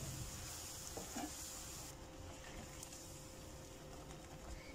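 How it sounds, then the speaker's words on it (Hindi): Crepe batter is whisked quickly in a bowl, giving a steady, faint scraping and stirring texture with light clicks. It sits close and continuous, and no one speaks. "देखें जल्दी जल्दी हमने इसको मिक्स करना है ताकि इसमें गुठलियां जो है ना बने।"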